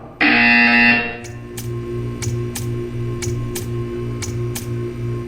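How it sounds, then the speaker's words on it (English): A loud electronic buzzer from the Portal 2 video game sounds for about a second, followed by a steady low mechanical hum with a regular series of faint ticking clicks. "You will hear a buzzer."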